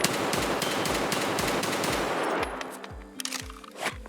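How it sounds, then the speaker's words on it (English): Rapid semi-automatic bursts from an SR25 designated marksman rifle hip-fired in Escape From Tarkov, loud, close gunshots in a fast continuous stream, then a few spaced shots with echoing tails. "we're hip firing right now, and look at how tight the spread still is"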